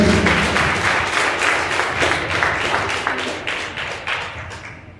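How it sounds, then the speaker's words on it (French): Applause from the audience at a graduation ceremony in Saint Marc, a dense, lively burst of clapping with rhythmic pulses, loud at first and gradually fading toward a quick cutoff. "Sous votre applaudissement, s'il vous plaît."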